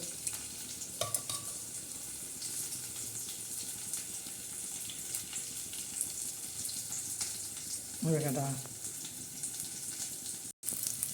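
Tempering for a toor and moong dal fry sizzles in a pan, a continuous crackling fry with occasional spoon clinks and a brief burst of louder spluttering near the end.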